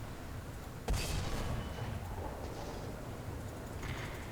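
Artillery fire in the War Thunder tank game, heard from a KV-1S heavy tank: one sharp heavy blast followed by a long rumbling wash of battlefield noise and a fainter later impact, with no talking.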